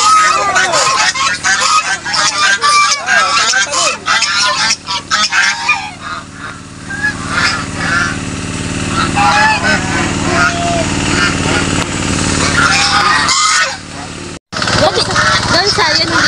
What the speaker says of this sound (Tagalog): Gansa, yan hindi ang bibe, diba? Gansa.